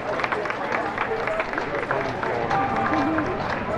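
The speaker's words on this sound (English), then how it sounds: "let's give them a round of applause for coming up here and volunteering" A crowd claps and cheers for volunteers and a wagon team at the Days of '76 Parade, a dense, steady wash of applause lasting several seconds with voices mixed in.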